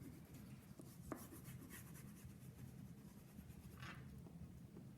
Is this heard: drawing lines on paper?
yes